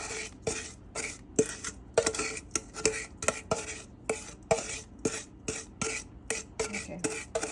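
Butter and sugar being beaten by hand in a bowl for Jamaican sweet potato pudding, a steady rhythm of close scraping, tapping strokes repeating roughly every half second.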